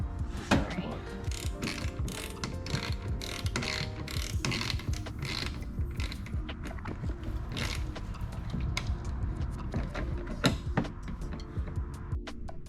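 A ratchet wrench tightens the bolts on a rear diffuser for a Mk7.5 GLI. Quick bursts of clicking repeat throughout, close and fairly clear, mixed with knocks and creaks.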